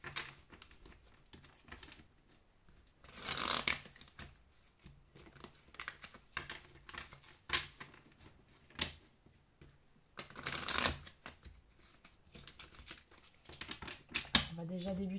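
Oracle cards are shuffled close up, with two brief riffling bursts among soft handling noises. A person talks quietly throughout.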